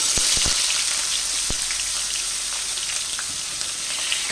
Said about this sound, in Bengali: ওই তেলের মধ্যে এবার আলুগুলোকে দিয়ে দিচ্ছি